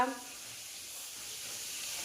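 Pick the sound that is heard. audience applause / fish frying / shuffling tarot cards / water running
fish frying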